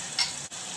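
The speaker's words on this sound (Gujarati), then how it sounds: "ટામેટા સંતળાય છે" Tomatoes sautéing with onions in a pan for sambar give a steady, close sizzle with a brief louder crackle near the start.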